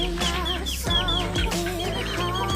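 Free-range village chickens and chicks cluck and call close by in the afternoon in a busy, overlapping chorus, with a few sharper squawks rising above the steady low clucking.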